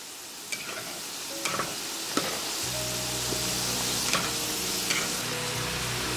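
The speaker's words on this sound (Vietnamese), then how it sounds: "Dùng đũa đảo nhẹ để đậu phộng được chín đều ha. Mình chiên như thế này khoảng 5 phút." Peanuts frying in hot oil while being stirred with chopsticks, a continuous close sizzle with occasional light taps and scrapes, and a low steady hum joining partway through.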